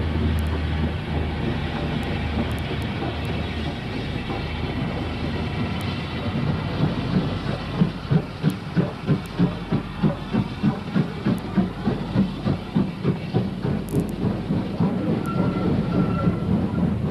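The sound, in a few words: ex-US Army steam locomotive Big Jim, built in Ohio 1945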